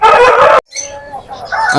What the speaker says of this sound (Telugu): మజార్ భాయ్ ఈ పుంజు కూడా చాలా హైట్ లో చాలా బాగా హెవీగా ఉంటుంది